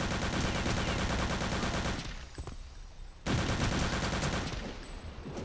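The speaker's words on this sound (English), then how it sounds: "I think they were shooting with hit scanners" Enemy gunfire in Return to Castle Wolfenstein rattles as loud, dense bursts of rapid shots. A brief lull comes in the middle before the shooting resumes just as intensely. There is no talking.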